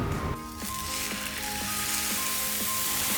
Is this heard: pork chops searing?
yes